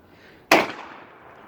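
A single sharp, loud blast from a semi-automatic shotgun fired with cheap regular-velocity shells, with a long decaying echo trailing after it outdoors.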